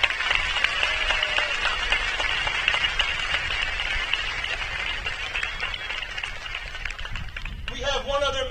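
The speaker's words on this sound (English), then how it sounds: "And now let's give them all a round of applause" A graduation crowd at Roy C. Ketcham Senior High School claps steadily in a dense, continuous wash of applause, with a voice starting to speak over the fading clapping in the final second.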